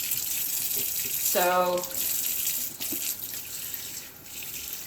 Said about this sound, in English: No, hot water. Rinse everything out.